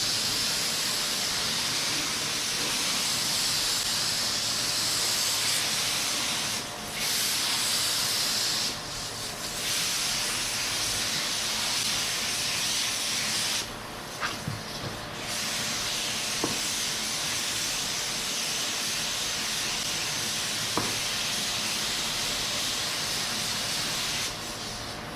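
Spray gun laying a thin coat of primer onto bare metal of a 1959 Dodge Coronet, a steady close hiss running almost continuously with a few brief pauses between passes.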